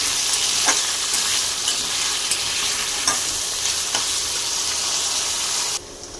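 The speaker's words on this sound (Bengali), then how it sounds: "আলু ভাজা ভাজা হয়ে গেছে" Potatoes fry in hot oil with bay leaf, dried chilli, cinnamon, cardamom and cloves, giving a constant close-up sizzle broken by periodic scrapes of a stirring spoon.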